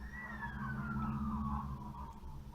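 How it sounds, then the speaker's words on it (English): A wailing emergency siren sweeps slowly downward in pitch, steady and fairly loud, over a low rumble of traffic, with no voices. "Sirens. Is that a sign?"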